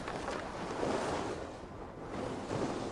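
Wind before a storm in Assassin's Creed Valhalla blows as a steady, moderately loud gusting rush with surf-like swells rising and easing, alone without speech.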